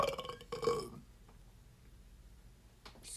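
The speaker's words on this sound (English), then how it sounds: "Even David Beckham sometimes can burp a little tidbit." A single close, deep burp from a man during a men's grooming product review, loud and rough for about a second, then fading into quiet room tone.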